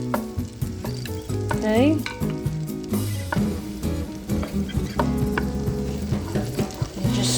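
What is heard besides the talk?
butter melting with minced garlic in a pan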